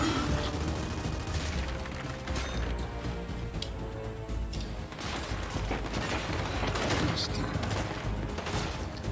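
Dense, continuous gunfire in Gears 5 with rapid bursts and crashing impacts, loud throughout, mixed with background game sounds.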